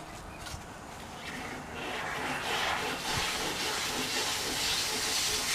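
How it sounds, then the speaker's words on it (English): A steam cleaner blasts inside a 1973 VW Bus, producing a continuous broad hiss that swells louder partway through and holds steady, with faint clunks underneath and no talking. "That noise you hear is my son steaming the Gia, or not the Gia, the bus."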